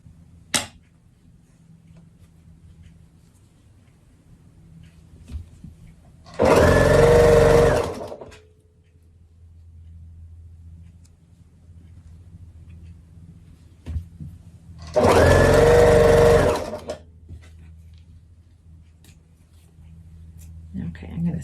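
A sewing machine stitches quilt pieces in two loud, steady bursts of about two seconds each, separated by quieter stretches of faint handling and low background hum.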